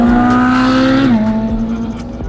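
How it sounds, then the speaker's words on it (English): A Ferrari V8 engine revs hard nearby, its loud, sustained whine dipping in pitch partway through as it shifts down, with no talk over it. "Ferrari V8, nothing like it."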